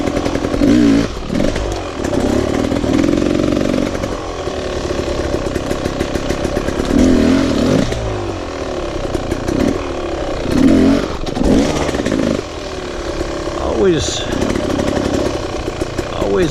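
Enduro motorcycle climbing a newly built uphill trail with log obstacles, its engine revving hard and fluctuating in loud bursts with brief drops between throttle pulls, while someone talks over it throughout.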